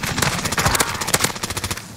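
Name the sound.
gunfire in Warzone video game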